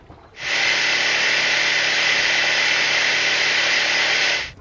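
A silver Honda 50HP outboard engine on a Stessl Sportsman 440 boat starts abruptly and holds a loud, steady, high-pitched running whine before cutting off sharply at the end.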